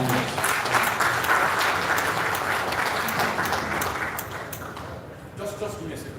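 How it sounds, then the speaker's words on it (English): A conference audience applauds panelists after a national oil company session: dense, sustained clapping from a crowd that gradually thins and fades toward the end. "Is a round of applause for our panelists."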